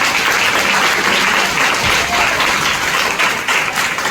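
An audience claps loudly and steadily, a thick unbroken roar of many hands applauding throughout.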